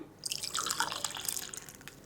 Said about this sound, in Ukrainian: Далі чекаємо, поки вода повністю стече крізь каву